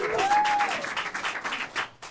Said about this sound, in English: Clap it up if you have ADHD.